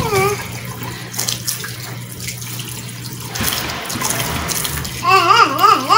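Running tap water splashes steadily while wetting a child's hair during a hair treatment, a loud continuous gush with shifting splashes, and a child's wavering vocal sounds rise over it near the end.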